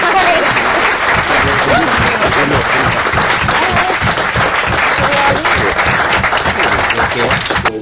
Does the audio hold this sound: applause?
yes